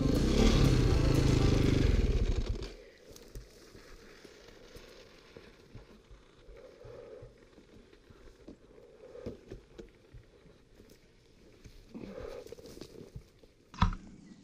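Old KTM dirt bike grinding up a narrow trail choked with broom scrub: a loud, strained engine for the first couple of seconds, then cuts out, leaving quiet rustling, clatter and a sharp knock near the end.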